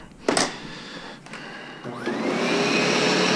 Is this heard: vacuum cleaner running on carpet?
yes